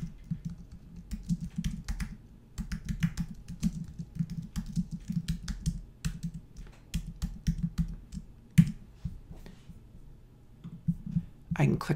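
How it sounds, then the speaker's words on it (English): Computer keyboard typing: rapid, irregular key clicks in quick bursts with brief pauses, fairly close, over a low steady background hum. "And now I'm going to type happy birthday party animal."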